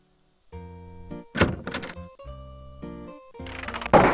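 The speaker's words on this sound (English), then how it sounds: "you hear someone removing the bar and unlocking the bolts on the other side of the door" Heavy wooden bar lifted and bolts unlocked on an inn door in the game Quest for Glory 4, a sequence of loud thunks and metallic clanks over a sustained synthesized music tone.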